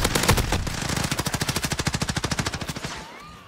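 A shooter video game weapon fires a long rapid burst of about thirty loud, evenly spaced shots. The burst stops abruptly near the end, leaving a brief quieter tail.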